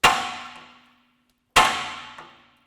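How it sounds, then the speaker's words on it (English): Two sharp metallic hammer strikes on a seized front lower suspension ball joint of a Land Rover Discovery 3/4 or Range Rover Sport, each ringing clang decaying over about a second, with no talk. "he's gonna give it a few whacks with a hammer to shock it loose"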